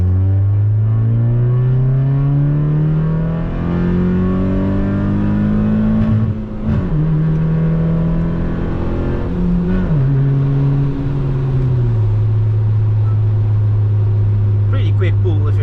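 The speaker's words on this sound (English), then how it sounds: "So I will let you enjoy a little bit of the sound of the car" A 150 HP Hyundai Tiburon engine revs loudly while driving, its pitch rising steadily, dipping briefly around two gear shifts, then settling into a steady high drone, close and continuous.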